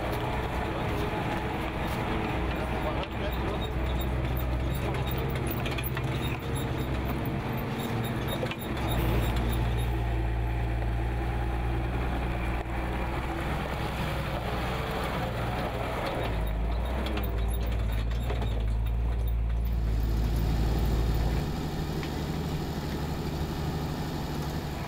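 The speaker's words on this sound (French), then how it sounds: "Grâce à son camion, Pierre arrive sur un petit plateau" A beekeeper's truck grinds slowly up a steep mountain track strewn with small loose stones, its engine droning low and steady close by for the whole stretch, with a brief shift in load partway through and no voices.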